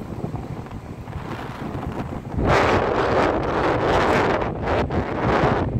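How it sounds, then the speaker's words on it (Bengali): Strong wind buffets the microphone on a ship's deck out at sea, a continuous rough roar that surges louder halfway through and stays heavy, close and loud with no voices. "অত্যাধিক বাতাস।"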